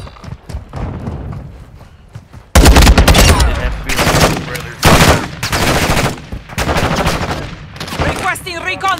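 Automatic gunfire in the DMZ video game, loud bursts of rapid shots and thumping impacts that erupt after a quieter opening of scattered pops, with voice chatter mixed in.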